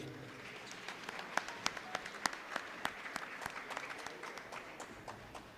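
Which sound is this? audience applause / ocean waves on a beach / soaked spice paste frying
audience applause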